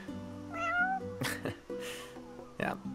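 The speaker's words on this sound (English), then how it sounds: "It's a kitty cat!" A cat in the video game Final Fantasy XV gives several close, plaintive meows in a row over a soft musical background, with no talking.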